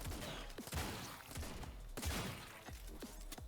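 Rapid bursts of shotgun fire in the Autogun Heroes video game, several sharp blasts going off one after another over a steady bed of game noise.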